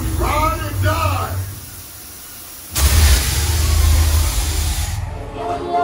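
Engine revving and a rushing nitrous-style hiss burst out on the Fast and Furious Supercharged ride at Universal Studios Orlando, loud and close, between stretches of voices talking before and after.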